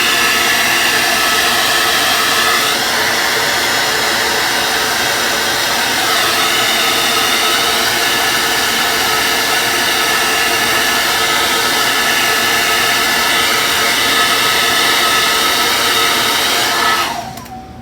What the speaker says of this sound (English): I use this a lot more for drying paint than drying my hair